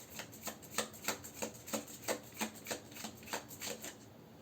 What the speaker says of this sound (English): this mini deck is, like, so hard to, like, get cards out of.